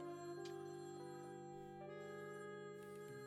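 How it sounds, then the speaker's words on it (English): A phone rings in a detective video game, a steady electronic ringtone of sustained tones that shift pitch in steps, loud and clear with no talk over it. "why is the phone ringing?"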